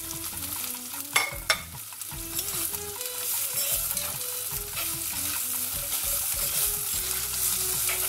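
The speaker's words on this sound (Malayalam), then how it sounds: "പാവയ്ക്ക നമ്മളിതിനെ നന്നായിട്ട് വാട്ടണം" Bitter gourd sautés in a pan, a close sizzle that builds from a few sharp clatters of stirring into a steady, full frying hiss, with no talking.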